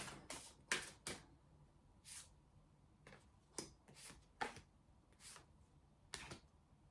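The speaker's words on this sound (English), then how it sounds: "So let's just shuffle some cards and let's shake them" A deck of playing cards being shuffled and shaken, a series of short crisp riffling bursts repeating at irregular intervals, close and fairly quiet with no talking.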